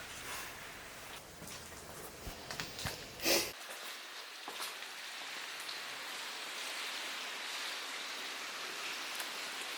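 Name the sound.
rain outside an abandoned ice cream factory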